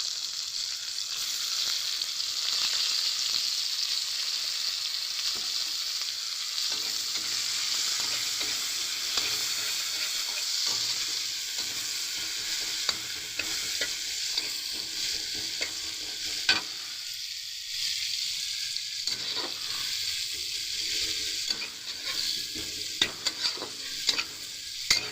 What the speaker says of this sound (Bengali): পেঁয়াজগুলোকে একটু লাল লাল করে ভালো করে ভেজে নেব।